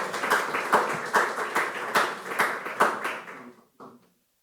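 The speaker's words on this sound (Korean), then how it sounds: "박수 한번 주세요." A small church audience gives a short burst of clapping at a student gospel gathering, a handful of distinct claps rising and falling for about three seconds before fading to a single last patter.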